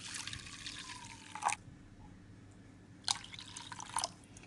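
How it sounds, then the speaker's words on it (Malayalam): Water poured from a glass into a pot for oats soup, two close splashing pours separated by a quiet pause, with a few drips between them. "ഇനി ഇതിലേക്ക് വേവാൻ ആവശ്യമായ വെള്ളം ഒഴിച്ചു കൊടുക്കാം."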